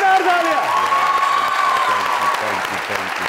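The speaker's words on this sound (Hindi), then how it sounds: "एक बार जोरदार तालियां" A comedy talk-show studio audience bursts into loud, sustained clapping mixed with cheering, while a voice rings out over the applause.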